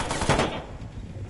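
Video game gunfire, a short dense burst of rapid automatic shots that quickly fades.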